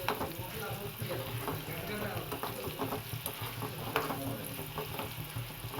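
Amla, black cumin and fenugreek fry in oil for homemade hair oil, giving a soft steady sizzle broken by clinking stirring strokes, fairly quiet, with a voice talking at times.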